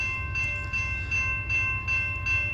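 A CSX southbound freight steel train approaches through Plymouth, Michigan, with a low rumbling roll, rhythmic clacking pulses and a steady high tonal whine riding over the top.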